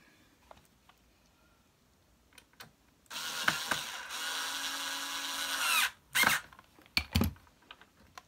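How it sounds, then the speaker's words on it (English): A power screwdriver fastens the cover back onto a vacuum cleaner: one steady whirring drill run of about three seconds, close and fairly loud, followed by a few short clicks and knocks of handling. "Now I can close this back up. Screw this back on."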